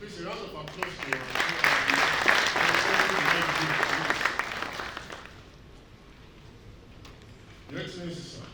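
Audience at a graduation ceremony breaks into loud sustained applause that dies away after about five seconds, leaving quiet room tone before a voice speaks again near the end.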